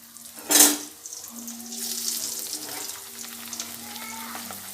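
Dal puri dough is slipped into hot oil in a kadai. A brief loud splash opens, followed by a steady, close sizzling and bubbling that carries on with no talking.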